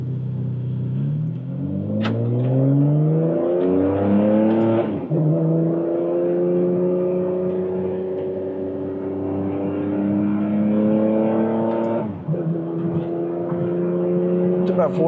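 A 2008 Ferrari 599 GTB V12 engine accelerates hard through several gears, pitch climbing then dropping at each shift, loud and close from inside the car.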